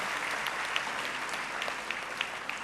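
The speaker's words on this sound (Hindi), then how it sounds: "बजाते रहिए ताली।" Sustained audience applause at an annual function and prize distribution ceremony in a hall, a dense even wash of many hands clapping with a few sharper claps standing out, no talk.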